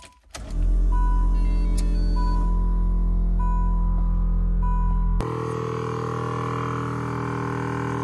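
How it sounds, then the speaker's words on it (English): A weak, nearly dead air compressor runs to inflate a car's budget air suspension, a loud steady electric whine and hum that drops to a lower, quieter drone about two thirds of the way through. "I think my compressor's like almost dead. Oh, it's going up a little bit, but I'll let it run."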